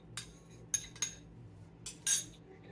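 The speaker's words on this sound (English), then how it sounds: "Give that a little bit of a stir." A spoon clinks against a mixing bowl as flaxseed mix is stirred into the wet ingredients for vegan banana bread, with a handful of scattered, light metallic taps amid quiet kitchen background.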